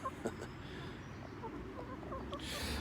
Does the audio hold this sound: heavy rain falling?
no